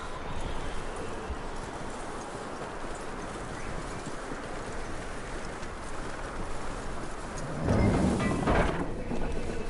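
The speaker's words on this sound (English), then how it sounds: "That looks like a decent horse." Rhythmic hoofbeats of a horse clip-clopping steadily in Red Dead Redemption 2, with a louder rustling burst near the end.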